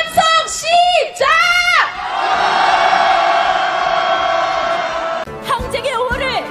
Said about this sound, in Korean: 촛불 승리 함성 시작!